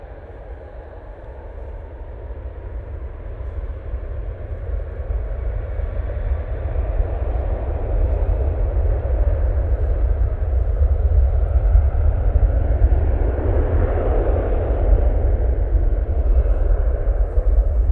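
A Virgin Atlantic Airbus A330-300 airliner bound for Bridgetown takes off, its deep engine roar swelling gradually from a steady rumble into a loud, sustained broadband thrust with no voices.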